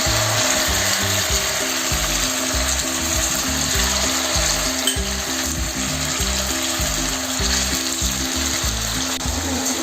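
Chicken pieces frying in hot coconut oil for Kerala-style chilli chicken, a loud, steady sizzle with a rhythmic mechanical chugging underneath, continuous throughout with no voices.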